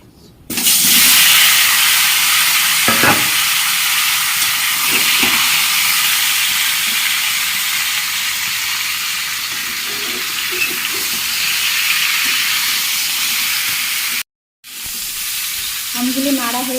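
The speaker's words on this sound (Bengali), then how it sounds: "আমগুলো নাড়া হয়ে গেছে।" Raw mango pieces sizzling and frying in a pan with oil and dried red chillies, a bright continuous hiss with a few scraping stirs, loud and close, briefly cutting out near the end.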